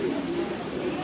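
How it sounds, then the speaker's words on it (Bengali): Pigeons coo in a garden estate with fountains and crested hens, a low steady murmur that runs through the short moment over ambient outdoor noise. "এই যে পায়রা, প্রচুর পায়রা।"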